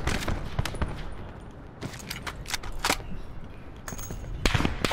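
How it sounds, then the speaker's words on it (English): Gunfire in Call of Duty Black Ops 4 Blackout near a lighthouse, a few sharp cracks spread irregularly over steady game background noise. "I just shot the teammate"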